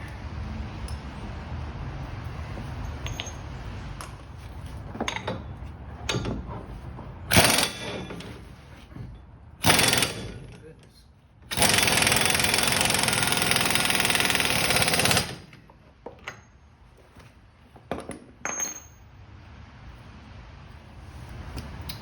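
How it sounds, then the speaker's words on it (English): An impact driver works the front wheel bearing nut on a Porsche 986, firing in several loud hammering bursts, short at first and then one long sustained rattle, with quiet workshop pauses and clinks between them. "And the nut. Impact driver on a 4."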